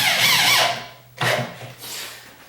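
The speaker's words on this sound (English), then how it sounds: "I'm gonna get a screw down here at the end." A power drill drives a screw into plywood in two short, loud whirring bursts, the second rising sharply after a brief pause, then trailing off.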